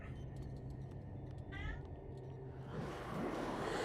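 A cat meows briefly in the horror game Call of Cthulhu, a short rising cry amid a low, murky game ambience that swells into a noisy rush toward the end.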